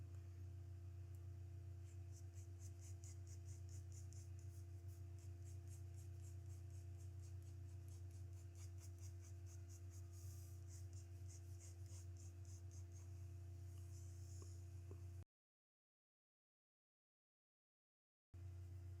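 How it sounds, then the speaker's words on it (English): A pencil scratches steadily across paper in quick repeated strokes while an oval is drawn, faint over a constant low electrical hum, then the sound stops abruptly. "create an oval in the center of your paper here"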